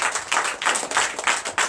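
Church congregation at a Sunday service in Comè, Benin, clapping in acclamation, a steady run of rhythmic claps close by with no talk over it.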